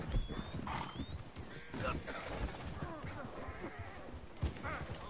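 Horses trotting and clip-clopping in Red Dead Online, with a brief whinny over steady hoofbeats, set against game ambience and a voice talking throughout.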